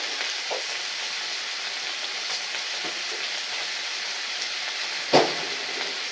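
Bacon frying in a pan, a steady close hiss and crackle of sizzling fat running throughout, with one sharper pop or clatter near the end.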